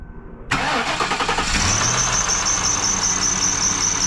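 A Lincoln car's engine cranks and fires up after a dead battery is replaced, then settles into a steady, loud idle with a persistent high-pitched squeak from a pulley running over the engine noise.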